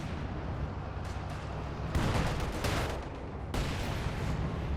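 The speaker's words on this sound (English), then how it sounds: "Panzer IV hits a mine" A Panzer IV tank strikes a mine in the Company of Heroes 2 strategy game, giving a loud broadband blast at about two seconds and a second one near three and a half seconds over ongoing battle rumble.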